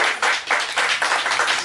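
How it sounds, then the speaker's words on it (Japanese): Audience applause at an enka singer's mini live event, a short burst of clapping from a small crowd in uneven waves, fairly close and moderately loud. "これはまた拍手をいただいてありがとう"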